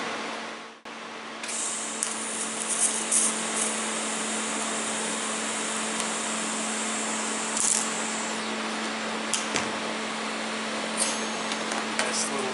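Tack welding on metal jaw pieces of a pterodactyl sculpture gives a steady electrical hum and hiss, with short crackling bursts as each tack is struck.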